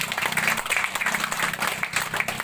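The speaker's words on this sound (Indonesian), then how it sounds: "Tepuk tanganlah dulu untuk Ibu Dewi." Audience applause at a Riau Islands provincial legislature (DPRD Kepri) constituency recess meeting in Bintan Regency, a dense steady clapping lasting the whole moment, with a low hum underneath.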